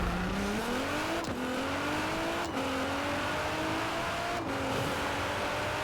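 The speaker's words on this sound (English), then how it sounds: "So I'm gassing it all the way right now." A 1000+ horsepower Nissan GTR in a Forza Horizon 4 drag race roars at full throttle, its loud engine note climbing steadily through each gear before briefly dipping at four quick upshifts.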